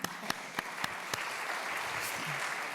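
Sharp claps ring out at first, then blend into a steady wash of applause from a crowd, continuing evenly throughout.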